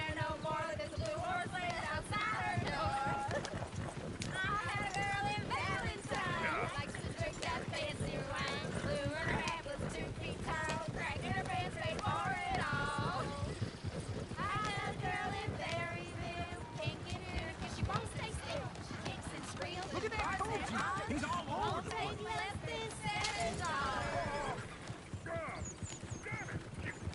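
Horse hooves clip-clopping with an occasional whinny in the Red Dead Redemption 2 video game, steady and continuous under near-constant talk and background music.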